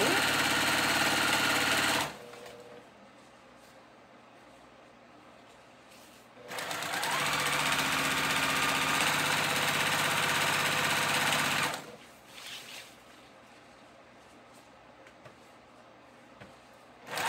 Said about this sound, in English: Now we're sewing this back side of ribbon, which is the top ribbon.